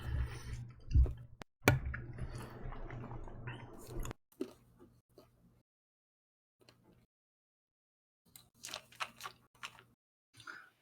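Close, crisp chewing and crunching of cashews, dense bursts of mastication at first, then sparser quiet munches after a short pause, with soft background hum.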